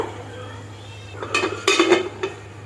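A cooking pot on the stove, salted for chicken biryani, is covered with its lid: a few sharp metallic clanks and clinks close by, then a final settling knock over a steady low hum.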